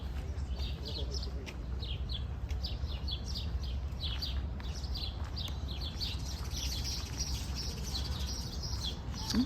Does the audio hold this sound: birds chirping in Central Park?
yes